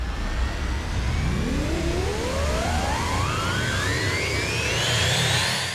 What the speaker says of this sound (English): spacecraft